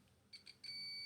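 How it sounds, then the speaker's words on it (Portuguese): Continuity beep from a digital multimeter testing a normally closed switch contact, heard as short high tones that become one steady tone once the switch is pressed. The tones are faint and sound alone, with no talk. "Então vai bipar assim que eu ligar a chave"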